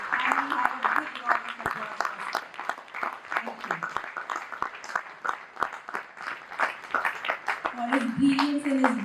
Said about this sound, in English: And we have a big round of applause.